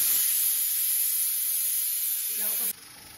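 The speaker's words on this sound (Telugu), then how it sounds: "ఇదంతా ఆవిరిపోయిన తర్వాత మనము ఓపెన్ చేసుకోవాలి." Steam escapes from a pressure cooker of rice cooked soft for masala vadiyalu, making a loud, continuous close hiss that cuts off abruptly near the end.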